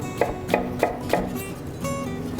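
Onion thinly sliced with a knife on a cutting board, four crisp, evenly spaced chops followed by a softer cut, close and clear with no talking.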